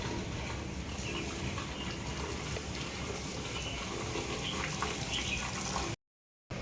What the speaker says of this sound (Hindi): पौधों को पानी भी दिया जा रहा है,